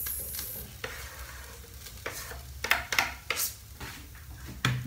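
Garlic and onions frying in a pan make a soft, low-level sizzle, broken by several distinct stirring and scraping knocks toward the middle and end, with no one speaking.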